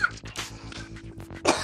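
Repeated coughing fits after a hit from a vape, close and fairly loud, with harsh bursts spread across the moment and a sharper, louder cough at the end.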